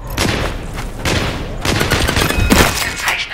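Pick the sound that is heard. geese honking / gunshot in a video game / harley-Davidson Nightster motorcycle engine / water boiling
gunshot in a video game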